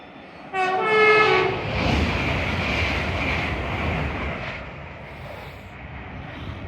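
Train speeding through Hatfield station platform without stopping, sounding a loud two-tone horn blast as it arrives, followed by a roaring rush of wheels and wind that slowly fades.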